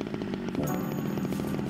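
A chainsaw cutting in the survival game SCUM, a steady dense buzzing roar that runs without pause, fairly loud and close.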